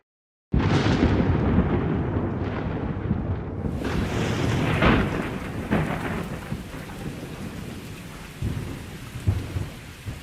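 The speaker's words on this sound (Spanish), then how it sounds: "La tormenta." A thunderstorm bursts in with heavy, steady rain and deep rolling thunder, the rumble swelling loud and close midway before easing back under the downpour.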